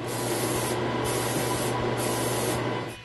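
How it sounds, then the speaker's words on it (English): A steady hiss of an aerosol can spraying lacquer onto a wooden intarsia plaque, sprayed continuously with brief pauses, close and fairly loud, with no talking. "I put spray can lacquer."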